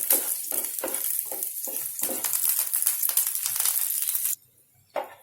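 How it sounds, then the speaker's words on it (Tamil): Garlic cloves fry in hot ghee, crackling and sizzling steadily with a stirring, scraping rhythm for several seconds before cutting out, followed by one brief clink. "அதுலேயே நம்ம எடுத்து வச்சுருக்கிற பூண்டை போட்டு வறுத்து எடுத்துக்கலாம்"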